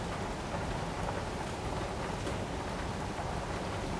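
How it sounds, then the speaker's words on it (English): Steady rain pours outside open windows, a dense continuous hiss of drops on surfaces with no talk over it, loud and close throughout. "is that rain?"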